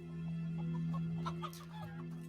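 Chickens in Xuan Yuan Sword 7 give soft scattered clucks over a steady droning game hum, faint and somewhat distant.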